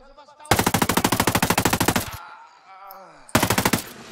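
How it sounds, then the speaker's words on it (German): Full-auto fire from a 516 assault rifle in Ghost Recon Breakpoint: a loud, close burst of rapid evenly spaced shots runs about one and a half seconds, a short ringing pause follows, then a second rapid burst begins. "Ich will mal im Vollautomodus mit der schießen"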